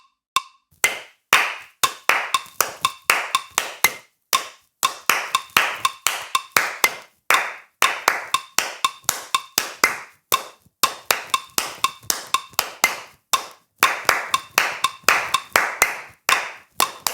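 Two hands clap out the African 6/8 clave in a crisp, steady, repeating pattern of sharp close claps, with short pauses between cycles and no voices.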